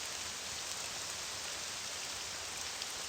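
Steady, even hiss of a heavy downpour in the video game Morrowind, continuous and fairly loud with no voices over it.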